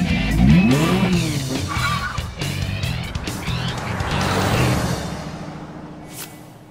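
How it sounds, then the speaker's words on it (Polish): A Nissan X-Trail e-Power pulls away on electric drive, with a loud close rush of tyre and motion noise that swells and fades over several seconds, with no talking. "Wyjechał na elektryku, zatrzymał się i włączył silnik spalinowy."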